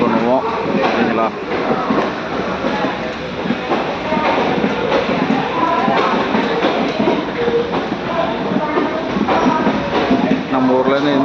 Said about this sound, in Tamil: நாகூர் காரைக்கால் டு எர்ணாகுளம் கொச்சின் இந்த ட்ரெயின்